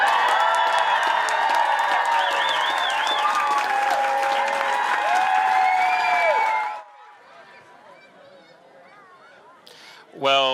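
Loud crowd applause and cheering with whoops greets two Olympians from Leeds Gymnastics Club, sustained for about seven seconds before dropping to quiet murmur, then a brief burst returns at the end.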